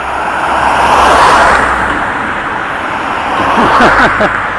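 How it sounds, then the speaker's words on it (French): Road traffic at the edge of the town of Nérac, a continuous broad rumble of vehicles passing nearby with a louder pass toward the end. "à cette heure-ci, il y a pas mal de circulation"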